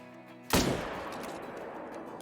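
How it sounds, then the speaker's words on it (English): A single loud rifle shot fired at a bull in the hunting game Call of the Wild, sharp and sudden after a quiet moment, then a long rolling echo fading across open terrain. "I don't know exactly about that shot"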